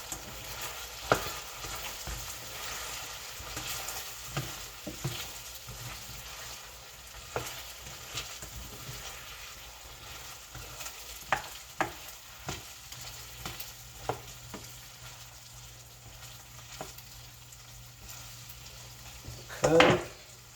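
Okra frying in a pan on the stove gives a soft, steady sizzle. Occasional clinks of a utensil against the pan break through at a quiet, close distance.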